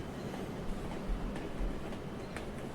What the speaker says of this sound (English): You can start to feel the train moving.